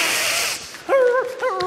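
A puppy gives a couple of high, short yips and whimpers after a burst of broadband noise, close by.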